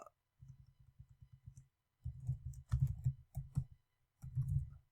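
Rapid series of small mouse clicks, close and fairly quiet, with short pauses between bursts of clicking while setting up a website lead form.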